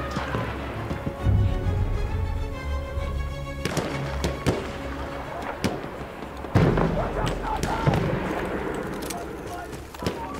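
Booming artillery blasts and sharp cracks pound across a Battlefield 1 match, scattered heavy hits near and far with a speaking voice over the din.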